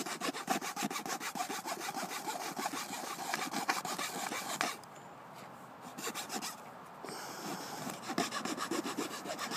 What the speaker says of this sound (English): Saw works a lot better